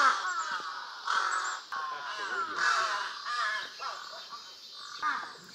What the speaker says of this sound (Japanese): そしてカラスが多い。